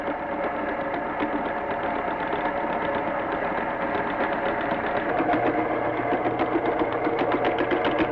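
A translation machine runs in an old film scene, giving a steady mechanical whir and rapid clatter like a sewing machine that holds at an even, fairly loud level throughout.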